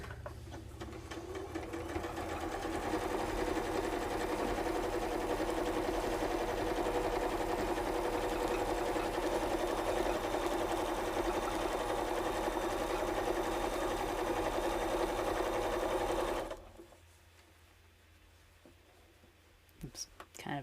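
A sewing machine stitches a quilt in a steady, close mechanical whir that runs about sixteen seconds before stopping abruptly, followed by a few faint handling clicks.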